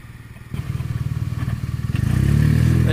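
A BMW R NineT motorcycle engine idles with a lumpy pulse, then revs up hard at a standstill into a louder, rising growl, close and alone.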